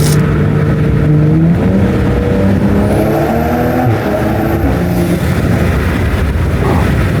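A Toyota Supra with a B58 engine and aftermarket intake roars loudly while driving, turbo intake droning with rising and falling pitch as it shifts through gears, close and continuous.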